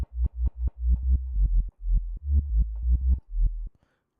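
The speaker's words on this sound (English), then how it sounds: "Kind of sounds like a reverse kick." A custom 808-style kick drum built in a Reaktor synth, repeated about a dozen times in an uneven rhythm, each boomy low hit swelling in rather than punching, so it sounds like a reversed kick, loud and dry with no voices.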